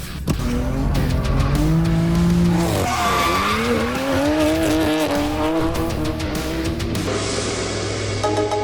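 A car drifting with loud, sustained tire squeal over a revving engine, the pitch rising and sweeping as it slides; close and continuous, no talk.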